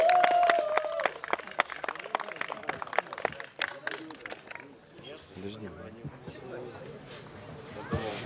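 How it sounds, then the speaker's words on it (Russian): An audience applauds at the 2013 Obskaya Volna festival concert, a burst of close clapping that thins out and fades after a few seconds, followed by someone speaking. "Ваши аплодисменты."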